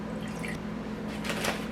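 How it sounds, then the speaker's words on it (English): Water trickles and splashes into a glass jar, a steady close pour with a soft low hum underneath and a brighter burst of splashing near the end. "Put some water in it."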